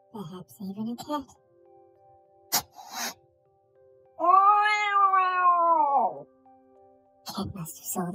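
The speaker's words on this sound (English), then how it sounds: "Perhaps even a cat." A single drawn-out cat meow, loud and close, rises and then falls over about two seconds, with brief voices before and after it.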